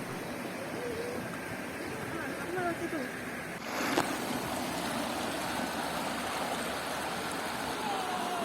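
A river stream flowing steadily near Dusun Kadilobo, a village near Salatiga, Indonesia, its broad wash continuous throughout with a brief louder splash midway and faint outdoor ambience.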